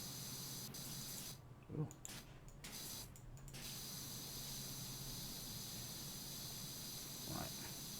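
A pressure washer spray gun in the PowerWash Simulator video game hisses in a steady, continuous broadband jet that runs throughout, with a brief vocal exclamation partway through.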